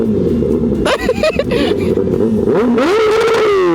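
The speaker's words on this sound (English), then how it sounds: "Give him a rev, Evan." A car engine revs hard several times at close range, the pitch sweeping up and down in loud bursts, with a person speaking briefly over the roar.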